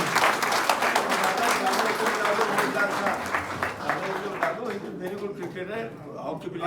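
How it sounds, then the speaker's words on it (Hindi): Audience at a community award ceremony in Nainital applauding loudly and steadily, a dense wash of clapping that thins slightly toward the end, with voices mixed in. "तो तुलसी के लिए भी एक बार ताली बनती है।"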